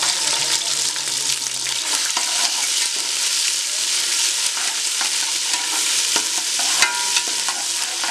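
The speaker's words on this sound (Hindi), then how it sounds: "अब मैं इसमें लहसुन अदरक का पेस्ट डालूंगी।" Garlic ginger paste frying in hot oil with cumin, a steady crackling sizzle with scraping stirring strokes and occasional clinks of a spoon against the pan, close and continuous without talk.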